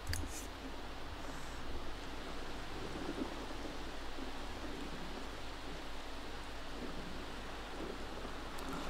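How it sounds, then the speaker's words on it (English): Steady rain falls in a video game, a dense even hiss with low rumbling beneath that holds at a constant level throughout without any voices. "Oh, it's starting to rain."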